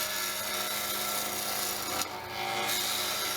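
Wood turning on a lathe as a gouge or scraper cuts a blank still partly flat from its rectangular stock, giving a steady close rasping scrape with a short break partway through.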